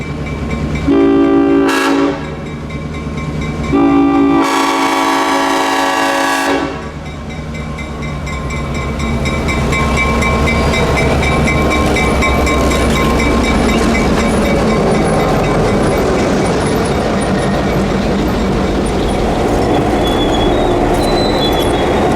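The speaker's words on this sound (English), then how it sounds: "the 800 pulling in, splitting the road as it pulled into the station" The Clinchfield 800 locomotive pulls into a station across a road, sounding two loud, long horn blasts followed by a sustained rumble, rolling wheel noise and faint squealing as it passes close by.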